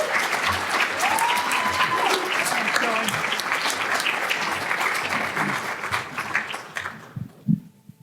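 Sustained applause from a crowd welcoming a speaker to the stage, full and even for several seconds before thinning into scattered claps and voices as it dies away.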